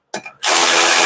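A ratchet wrench whirs rapidly in a dense, loud burst while tightening bolts on a 2021 GMC SUV, preceded by a couple of brief clicks.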